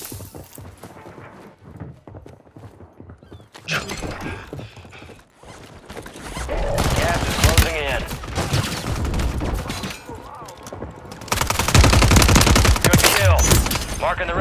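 Heavy gunfire in Warzone 3 Rebirth Resurgence, including Kar98k shots, comes in several loud clusters of rapid cracks and rattling bursts over game noise, growing denser toward the end.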